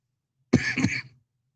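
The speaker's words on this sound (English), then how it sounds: "Pardon my cough." A single short cough merges into throat clearing, close and fairly loud, about half a second long, with silence before and after.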